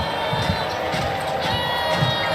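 Full crowd in a college basketball arena at a Georgia vs Florida game, a dense steady roar of voices and cheering with sneaker squeaks and ball bounces mixed in.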